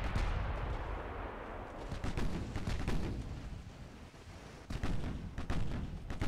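Heavy naval gunfire from battleship 16-inch guns and light cruiser 7-inch guns in the warship game Ultimate Admiral Dreadnoughts, a dense run of booming, rumbling shots with repeated sharp blasts and no talking.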